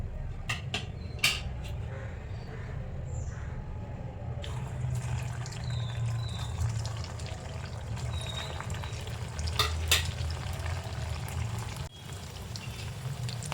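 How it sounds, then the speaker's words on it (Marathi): Sabudana french fries frying in hot oil give a continuous low bubbling sizzle throughout, with occasional clinks of a utensil against the pan, close and steady with no voices. "अशा प्रकारे आपण आता सर्व फ्राईज फ्राय करून घेऊया"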